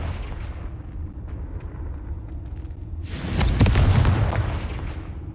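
A Confringo fire spell explodes in Hogwarts Legacy combat, a sudden loud boom with a roaring, crackling tail that follows a low steady background rumble.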